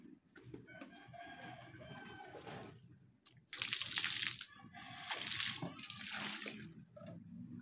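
Tap water runs into a sink in a home, loud and steady in bursts, with a rooster crowing in the background and a quieter stretch of household noise before the water surges.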